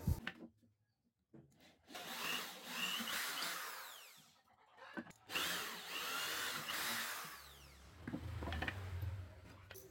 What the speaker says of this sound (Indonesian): Lalu kemudian bor sesuai